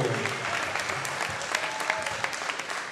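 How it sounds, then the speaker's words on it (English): A fight crowd applauds a fighter's ring introduction with steady, dense clapping at an even level throughout, without speech over it. "Give a big round of applause to Adam Fransto."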